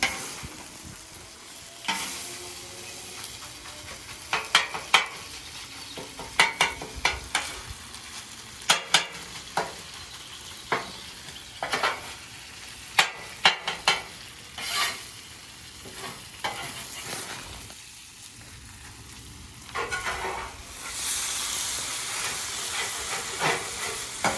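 Cheesesteak meat with provolone and cheddar sizzles and fries on a griddle, with repeated loud scraping and stirring strikes of a spatula over a steady hiss and crackle, no talking.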